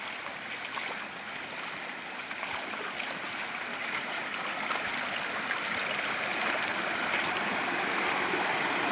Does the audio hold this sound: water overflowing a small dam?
yes